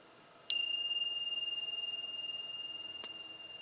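One strike of a meditation bell at a spiritual campus gathering sounds in a hushed room, the pure ringing tone lingering and fading gradually with a gentle pulsing shimmer.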